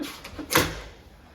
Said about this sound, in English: if you're leaving for good, close the door thing, which I'm gonna do right now.